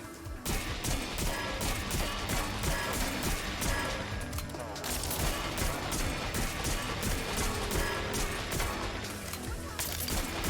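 Dense, sustained video-game gunfire after an EMP exposes enemy weak points, a continuous loud barrage with rapid bursts and crashes layered over the in-game soundtrack, with a faint voice mixed in.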